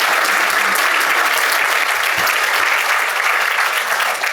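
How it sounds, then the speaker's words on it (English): Loud, dense applause from an audience honoring librarians at a public event, steady sustained clapping throughout with no break. "Let's have a round of applause for our librarians."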